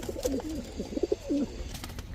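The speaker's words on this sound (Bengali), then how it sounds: "এখন দেখাবো আকাশি কালারের এক জোড়া গোল্লা কবুতর, রাজগোল্লা কবুতর।" A pair of sky-blue Rajgola pigeons coo in soft, rolling calls, several short throaty phrases in a row at close range over faint background noise, with no talk.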